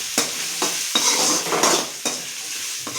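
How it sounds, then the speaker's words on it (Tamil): Chopped onions and curry leaves sauté in a hot pan, a steady sizzle broken by regular scrapes and stirs of a spoon about every half second, close and alone with no talk. "இப்போ நல்லா இதை வதக்கலாம்."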